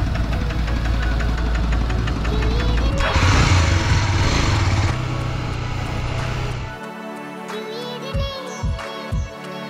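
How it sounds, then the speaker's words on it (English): A 250cc motorcycle engine runs steadily and loud while riding in Cambodia, a rough knocking drone that drops off near the end, followed by a few short low thumps. "And man, the engine is good actually. 250cc has a lot of power."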